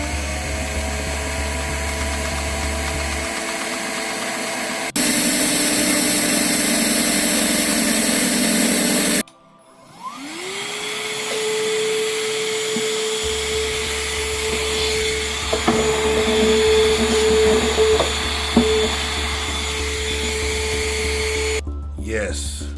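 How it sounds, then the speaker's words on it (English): A power drill bores a 1/4-inch hole in the hull of a Dominator RC boat to mount a GPS module; the motor whine spins up, holds steady for about twelve seconds, then cuts off amid workshop noise. "Drill a 1/4-inch hole."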